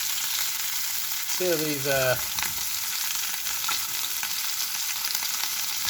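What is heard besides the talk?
sausages and black pudding frying in a pan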